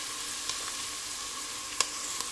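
Garlic and ginger sizzle in a hot pan, a soft, steady frying hiss with a few faint clinks and scrapes of stirring, quiet and close with no voices.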